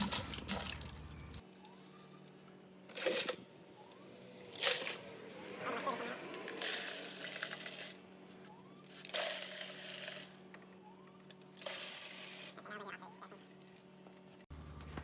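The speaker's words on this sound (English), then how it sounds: "I can control how much water is flowing, so I'm not gonna overflow the bucket." Water flushes from a heater core hose of a 2012 Dodge Avenger into a bucket, a steady close trickle and splash with a few louder gushes as the flow is released, and faint voice-like sounds beneath.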